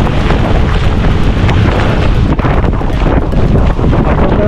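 Heavy wind buffets the microphone while someone rides a lithium-battery e-bike through rain in Metro Manila. The roar is loud and continuous, with brief dips and no talking.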